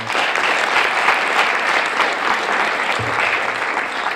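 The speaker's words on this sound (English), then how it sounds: "Let's give them a round of applause." Audience applause at a youth safety event, dense, loud and sustained clapping from many people with no pauses throughout.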